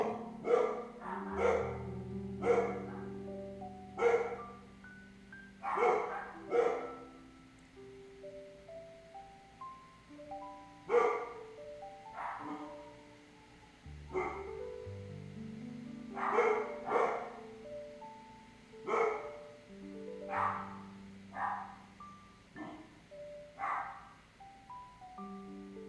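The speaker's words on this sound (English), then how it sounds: "the other, the male lab, he'll bark" A male Labrador barks repeatedly, deep and loud, in irregular bursts with short gaps between them, sometimes doubling up over a quiet background.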